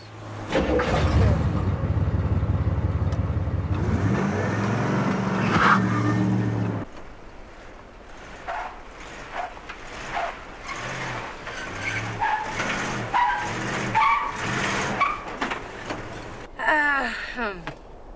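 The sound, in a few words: racing car engine revving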